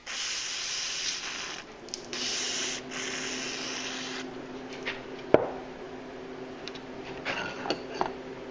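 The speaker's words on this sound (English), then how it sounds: "I'm going to clean it here with some brake clean." Brake cleaner hisses from an aerosol can onto a pitman arm on a workbench in a few close spray bursts, followed by a sharp knock and light handling noises.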